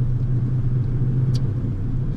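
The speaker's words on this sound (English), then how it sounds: "This is a sports car. I have a Mazda MX-5 2014, and it's a convertible." A 2014 Mazda MX-5 convertible sports car on the move, heard as a steady, close, low engine and road rumble that holds evenly throughout with no voices.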